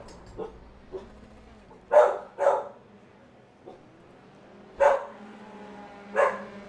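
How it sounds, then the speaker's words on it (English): Several dogs bark indoors at a moderate distance: a few short, spaced woofs and yips, loudest in a pair near the middle and two more toward the end, over a quiet background hum. "Sorry for my dogs here."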